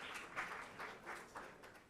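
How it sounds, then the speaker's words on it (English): Audience applause at a CityJS conference talk in New Delhi, a steady wash of many hands clapping at moderate, fairly distant level for the whole stretch, with no voices over it. "Let's have a huge round of applause, everyone."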